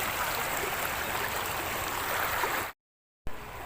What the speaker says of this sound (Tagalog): malakas ang current ng tubig